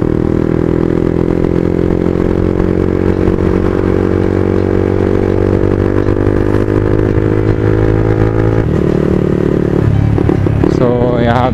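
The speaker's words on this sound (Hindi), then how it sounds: "सो चालू हो गई है बाइक" A Yamaha MT15 motorcycle engine runs close by during a one-litre mileage test, a loud, steady mid-pitched drone with a strong harmonic hum that shifts tone partway through and turns rougher toward the end.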